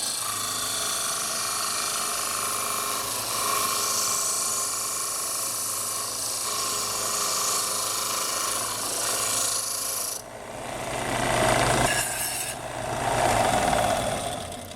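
A tool rasps and grinds steadily as wood is trimmed off the end of a wooden flute. The sound is close and continuous, with a couple of swelling passes near the end.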